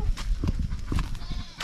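Goats let out outside on a hot day on a rural farm bleat loudly and repeatedly, several overlapping calls in quick irregular bursts close by, with no speech over them.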